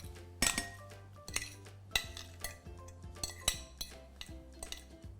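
Mashed banana is scraped from a container into a mixing bowl, with a series of irregular clinks, taps and scrapes of a utensil against the dishes, close and fairly quiet.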